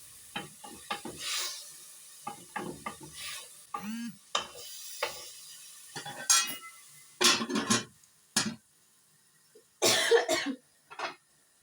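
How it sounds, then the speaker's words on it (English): Several bursts of coughing and throat clearing scattered over the stretch, close by, with quiet kitchen stirring sounds between them. "I'm coughing due to the green chili"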